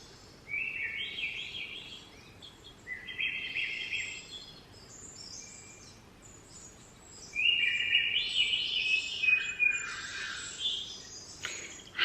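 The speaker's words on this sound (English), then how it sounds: "It's like chirping birds." A birdsong alarm clock plays recorded bursts of bright chirps and trills, pausing between phrases and growing fuller toward the end over a quiet background hiss.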